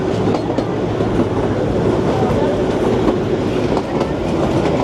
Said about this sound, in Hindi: यहाँ पे एक और ट्रेन खड़ी है जाने के लिए।